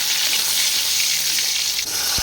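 Chopped ginger and garlic fry in white cooking oil, making a loud, dense, continuous sizzle heard up close, with a brief low knock near the end and no voices.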